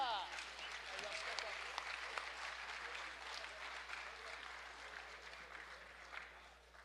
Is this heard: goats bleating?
no